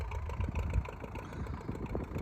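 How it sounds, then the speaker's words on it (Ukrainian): A tractor works a field with a disc harrow, its engine droning steadily and fairly close, with a dense low rumble and irregular clattering from the implement throughout. "Дивіться, трактор в полі дискує зразу."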